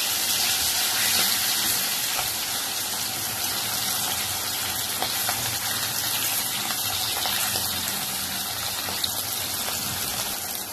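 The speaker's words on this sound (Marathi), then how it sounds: "माझी मच्छी फ्राय झालेली आहे" Pala fish shallow-frying in hot oil in a pan, giving a loud, steady, continuous hiss and sizzle with no breaks, close up and heard alone.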